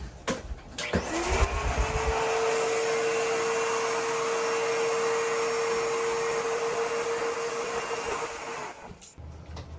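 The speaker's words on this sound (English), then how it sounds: "Borrow the custodian's vacuum here." A custodian's vacuum cleaner switches on in a school, spins up to a loud, steady whining roar that holds for several seconds, then shuts off and winds down.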